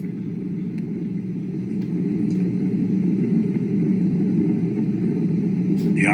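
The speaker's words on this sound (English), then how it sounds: "The rumble of the powerful Ariane 5 now being felt here in the control center" A deep, steady rumble from an Ariane 5 rocket launch, heard from inside the control center. The low roar is continuous and swells slightly partway through, with no voices.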